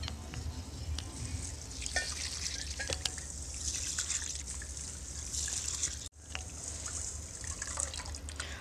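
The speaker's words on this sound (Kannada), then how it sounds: "ಕಾಳಿಗೆ ನೀರನ್ನು ಹಾಕಿಬಿಟ್ಟು 1 ರಿಂದ 2 ಸರಿ ಚೆನ್ನಾಗಿ ವಾಶ್ ಮಾಡ್ಕೊಳ್ಳಿ" Grains, with almonds and pumpkin seeds, swirled and rinsed by hand in a vessel of water for homemade baby cereal, giving a steady close sloshing and trickling with small drips and a brief break near the end.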